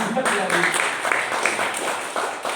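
A church congregation applauds during a Sunday sermon. A diffuse wash of clapping runs under a voice talking in the foreground.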